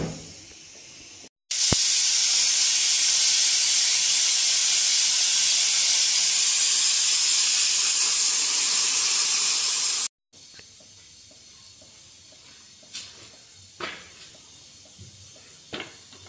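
A pressure cooker lets off steam in one loud, unbroken hiss lasting several seconds that stops abruptly, followed by faint clinks and kitchen knocks, with no voices.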